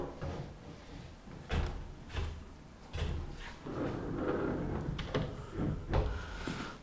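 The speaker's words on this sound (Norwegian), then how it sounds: "Da setter vi inn siste døra." A sliding wardrobe door being fitted during installation gives a run of knocks, thumps and rolling scrapes, close and uneven, with a longer sliding rumble in the middle.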